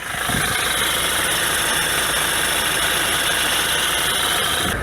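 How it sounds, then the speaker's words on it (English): A Ford Transit van engine idles steadily up close, with a constant whine and rattly hum from worn alternator bearings running through the whole stretch, no talking. "we're going to be pulling out the alternator because it's got noisy bearings on it"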